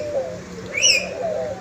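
Caged doves in a bird collection coo softly in a low, wavering tone across the moment, with a brief brighter chirp from another bird rising above them midway.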